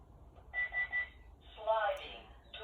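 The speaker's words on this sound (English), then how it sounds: "My alarm system's in this room and somebody just went outside." A home alarm system chimes as a sliding door opens, giving a few clear electronic tones at moderate volume, the first set in a short repeating pattern and then a brighter second chime.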